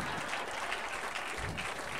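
Steady audience applause at a stand-up comedy show at the Orlando Funnybone, a continuous wash of clapping with a faint crowd murmur, filling the short moment.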